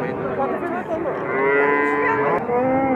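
Dairy cows at a cattle fair in Capoeiras, Pernambuco, moo loudly and continuously, several drawn-out overlapping calls close by filling the whole stretch with no talking.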